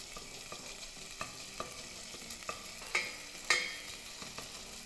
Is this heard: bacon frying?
yes